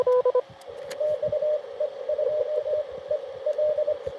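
Morse code from an amateur radio contact with a Mexican XE1 station, worked during a Parks on the Air activation at Fort Deseret, Utah: a steady keyed CW tone over hissing, crackling band noise, with brief beeps at the start.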